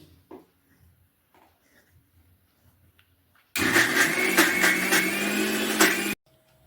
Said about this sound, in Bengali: এটা আমি মিক্সিতে পেস্ট করে নিচ্ছি।